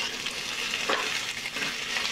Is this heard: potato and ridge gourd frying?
yes